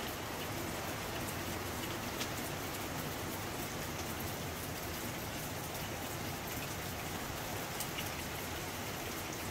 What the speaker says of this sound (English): It's just a lot of wind and rain.